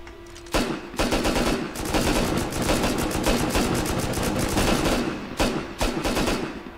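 Rapid automatic gunfire in the survival game Rust, suppressed weapons firing in dense bursts inside a metro tunnel, loud and close, continuous volleys with brief gaps and no talk.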